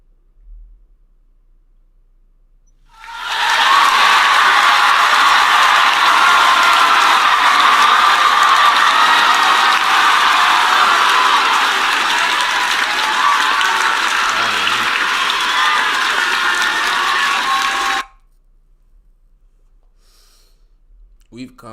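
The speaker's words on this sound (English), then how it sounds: "So let's clap it up again." Sustained applause from a small group, steady and fairly loud for about fifteen seconds, then stopping abruptly; no clear cheering stands out.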